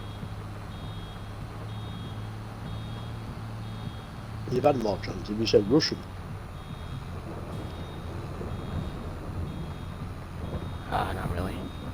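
A truck in Farming Simulator 22 sounds steady reversing beeps over a low droning engine, while someone talks loudly for a couple of seconds in the middle.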